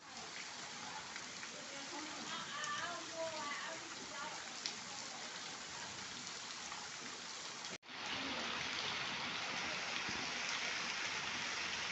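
Heavy rain pouring down outside a house during a storm, a dense continuous hiss of drops on surfaces that grows louder and fuller partway through, with faint voices beneath.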